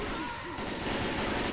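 Gunfire from the zombie shooter game Left 4 Dead 2, a dense, steady spatter of shots filling the whole moment, with some game noise and voices mixed underneath.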